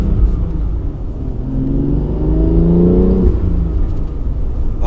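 A BMW car engine revs up steadily, its pitch climbing over a few seconds before dropping off, loud and close over a constant low rumble.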